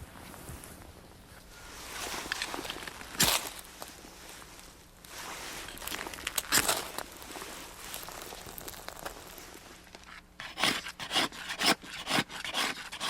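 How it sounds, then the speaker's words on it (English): An inner layer is scraped from a reindeer skin in Siberia, making rough rasping strokes, some short and sharp and others drawn out. The scraping is close and irregular and grows busier and choppier toward the end, with no talking. "scraping away the inner layer of this reindeer skin"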